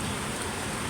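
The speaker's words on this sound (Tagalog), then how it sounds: "Ulan ang panahon." Steady rain falls as a dense, even hiss of drops, loud and close, with no other sounds standing out.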